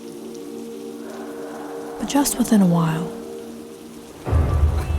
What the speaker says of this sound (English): trying to rest, listening to the raindrops.